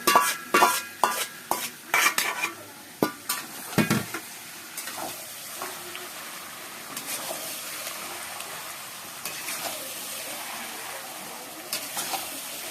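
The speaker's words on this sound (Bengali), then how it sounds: "এরপরে মধ্যে চিকেনটা দিয়ে দেবো। ম্যারিনেশন চিকেনটা দিয়ে দেবো।" Marinated chicken drops into a hot pan and is stirred, with a burst of spoon and pan clatter at first, then steady frying sizzle and occasional scrapes, no talking.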